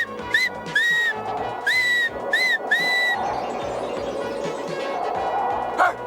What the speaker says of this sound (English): I'll whistle for Rantan.